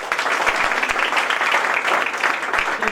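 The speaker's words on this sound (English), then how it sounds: "Let's have a huge round of applause for Dr. Adesh first." Steady, dense applause from a crowd, continuous and fairly loud throughout with no talking over it.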